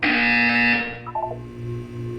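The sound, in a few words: buzzer in the video game Portal 2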